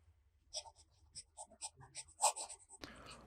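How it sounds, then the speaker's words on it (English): A fountain pen nib scratches across Office Depot steno notebook paper in short, close, faint strokes with little pauses between words, ending in a brief rustle. "The next writing sample is done in an Office Depot Steno notebook."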